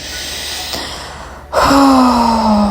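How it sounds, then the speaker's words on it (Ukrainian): A single loud, noisy exhale rushes out during a yoga session, close and breathy, followed by a steady low hum. "Зробіть шумний видих"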